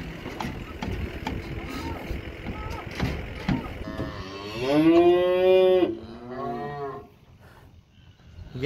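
A cow lets out a loud, long moo over rumbling engine noise and clattering as cows and calves are hauled to pasture, followed by a shorter, lower moo nearby.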